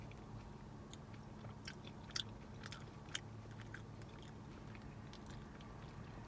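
Soft, wet chewing of creamed corn from a Texas barbecue restaurant, quiet and close, with irregular smacking bursts over a low steady background hum.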